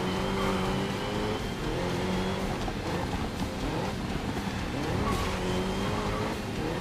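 Race cars in the GRID Legends video game roar around a circuit while overtaking, engines whining and shifting pitch with tire squeal, loud and continuous with no one speaking.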